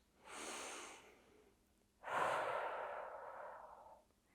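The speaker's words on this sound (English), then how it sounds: "take one more deep breath in and out" A slow, deep breath in and out during a yoga class, heard alone and close: a soft inhale, a short pause, then a longer, fuller exhale that trails off gradually.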